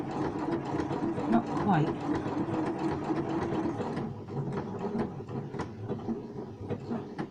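Sewing machine stitching appliqué, a steady mechanical whir and rapid needle clatter running throughout, close and continuous, with a voice speaking briefly over it.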